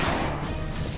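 A vase smashes in the video game Dyna Marisa 3D, one short, dense crash that fills the whole second at steady loudness, with no voice over it.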